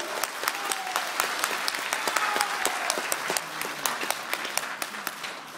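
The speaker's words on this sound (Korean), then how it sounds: "다른 분들 지지하고 있던 분들이 다 박수 치시는 거예요" Supporters at a party leadership campaign speech in Chuncheon, South Korea, give sustained, even applause with crisp individual claps standing out from the crowd.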